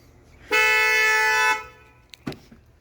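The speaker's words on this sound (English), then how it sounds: "I accidentally set off the car alarm because the buttons are pretty small and I couldn't feel which one was which." The alarm on a 2022 Kia Telluride SX Nightfall sounds one loud, steady horn blast of about a second, followed by a couple of faint clicks and thumps nearby.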